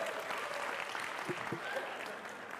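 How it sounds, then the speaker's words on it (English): Church congregation applauding steadily throughout, a broad wash of many hands clapping in a large room, with a few brief voices faintly mixed in. "Will you please just clap for Laura one time?"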